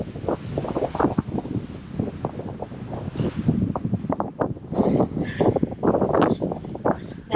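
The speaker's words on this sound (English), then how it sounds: "The only thing is that it's super windy." Strong gusty wind buffets the microphone beside an Eastern Sierra lake, a loud rushing roar with irregular surges throughout.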